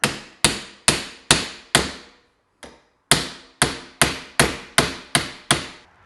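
Sharp metallic hammer blows drive bushings out of a Z950 Sport motorcycle's Elka Stage 4 shock, about a dozen close, loud strikes in a steady rhythm with one short pause partway through.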